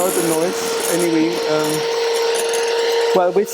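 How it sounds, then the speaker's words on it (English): An electric mixer's whisks beat egg white with a steady whirring motor hum and rattling, broken by short pitched scraping tones as the beaters move in the bowl. "while whisking, the whisks will beat air bubbles into the egg white"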